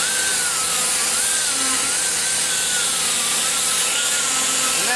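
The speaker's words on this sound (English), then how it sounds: "I take a sand roll and trim it down to where it'll just barely fit in there" A sanding roll grinds hardened epoxy inside a Chevrolet 305 cylinder head port, a steady, close, high-pitched abrasive whine with a wavering tone and no talking.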